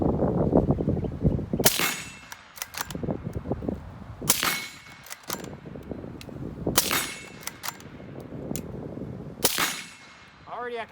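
Loud rifle shots from a Ruger American in 7.62x39 fitted with an Occam Defense RUK magwell and a 15-round Magpul magazine, four sharp cracks spaced a couple of seconds apart, with a talking voice and handling noise between them.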